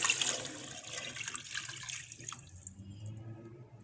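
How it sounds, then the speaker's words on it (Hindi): Water poured from a glass into a pot of whole spices for chicken yakhni pulao, a close, splashing gush that fades and settles over a few seconds. "4 गिलास हम इसमें पानी की ऐड करेंगे।"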